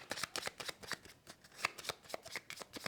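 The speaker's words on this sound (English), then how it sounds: "So taking those cards, giving them a shuffle." A deck of cards from the SETI board game being shuffled by hand, a quick run of crisp riffling bursts heard up close with no talk.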